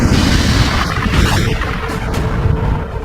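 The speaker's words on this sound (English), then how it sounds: "When a red giant star explodes, a titanic fireball known as a supernova unleashes" A deep, rumbling explosion with a heavy low-end roar that sustains and slowly settles, loud and close.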